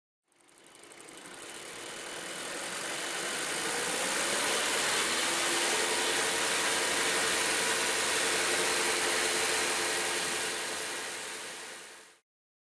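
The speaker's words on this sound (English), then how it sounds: "The engine is now running lean of stoichiometric." A car engine idling while running lean of stoichiometric, a steady even drone that fades in, holds level for about ten seconds, then cuts off, heard alone without speech.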